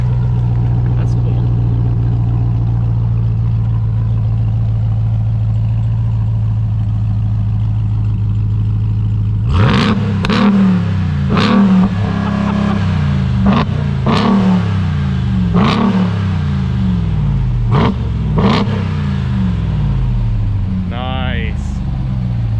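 A 2021 Ram TRX pickup's engine hums at a steady low idle, then is revved hard several times in loud, rising bursts that fall back between them, close by, with people talking around it.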